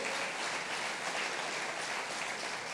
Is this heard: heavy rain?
no